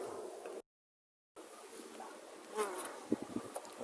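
Honeybees buzzing around an open hive during an autumn colony inspection, a faint steady hum with occasional louder close passes near the beekeeper, no talking.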